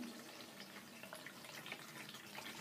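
Barbicide disinfectant solution, 32 ounces, is poured into a container: a faint, steady trickle and splash of liquid filling the vessel throughout.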